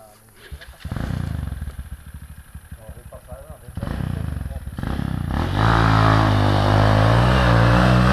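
Motorcycle engine on a steep hill-climb course revving in uneven bursts that rise into a loud sustained roar after a missed gear, with spectators talking over it in Portuguese.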